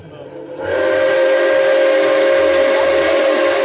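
Nickel Plate Road 765, a steam locomotive on an excursion, lets out a giant whistle that starts after a brief quiet moment and then holds as a loud, steady, sustained chord with a hissy steam edge.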